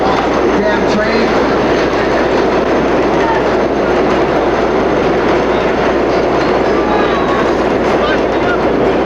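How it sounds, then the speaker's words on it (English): A train roars past at very close range with loud, constant rumbling and clattering wheels that fill the whole stretch, and voices are partly buried beneath the noise. "Damn train."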